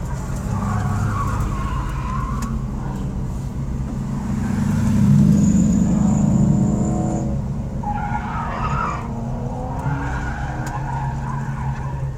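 Corvette skidding hard on an SCCA autocross course in Grand Forks, North Dakota, tires squealing and engine roaring steadily for the whole stretch, loudest midway as the car slides, heard up close with no talk.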